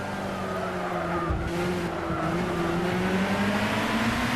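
Nissan Zytek LMP2 racing at Le Mans in Gran Turismo 6 through a chicane, a loud steady engine drone with shifting pitch, a brief downshift dip, and tires squealing through the turns.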